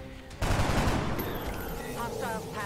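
Rapid gunfire in the turn-based strategy game XCOM: Enemy Unknown, a sudden loud burst of shots that continues as a dense rattle, with electronic whooshing effects sweeping through toward the end.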